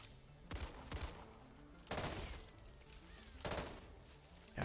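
M16 rifle fire in the zombie shooter game Back 4 Blood comes in three short bursts spaced a second or so apart, quiet overall, over a low in-game background.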